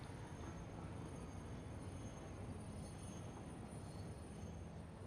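A train rolls steadily through a factory in the Satisfactory game, a continuous low rumble of wheels and cars that stays even and moderately quiet.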